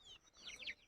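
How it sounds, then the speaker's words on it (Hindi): Chickens kept in a coop give a few faint, quick clucks, soft and somewhat distant, over a light background hiss. "यहाँ पे है चाचा जी की मुर्गियाँ, यहाँ अच्छा सा पिंजरा बना रखा है इनके लिए"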